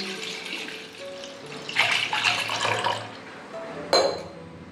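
Half a litre of buttermilk poured into a cooking pot for Maharashtrian kadhi, a soft liquid splash and gurgle building midway, fairly quiet with a brief sharper clink near the end.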